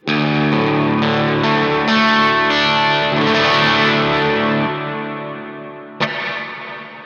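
Electric guitar chords played through an EHX Oceans Abyss reverb pedal on its stock plate preset, lush sustained tones with a long shimmering tail that fades out, then a single fresh strum ringing near the end.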